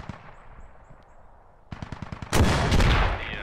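Gunfire in a squad-based military shooter game, starting with a few scattered single shots, then a loud sustained burst of rapid fire that swells close and dense.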